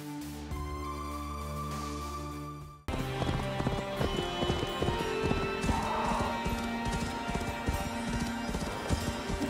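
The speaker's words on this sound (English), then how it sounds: "Looks like there's a horse over there." Horse hooves clip-clop at a steady, rapid pace in the video game Assassin's Creed Valhalla, a continuous rhythm under game music after a brief cut, with no talking.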